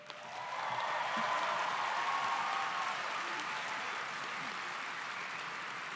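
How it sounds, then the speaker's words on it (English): Steady, sustained applause from a large crowd at a high school commencement ceremony swells quickly and holds evenly for several seconds. "Let's hear a round of applause."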